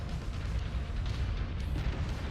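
A destroyed flyer blowing apart in the MechWarrior 5: Mercenaries video game gives a loud, sustained rumbling blast with dense low booms that hold steady throughout, with no voices.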